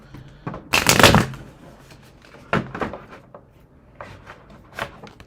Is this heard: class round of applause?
no